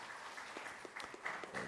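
A conference audience at SemiconIndia 2022 claps in a large hall, a brief, fairly faint ripple of applause from many hands.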